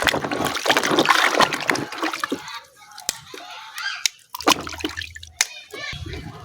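Pumpkin leaves are washed in water, splashing and trickling at first, then quieter scattered drips and clatters with short pauses. No one speaks.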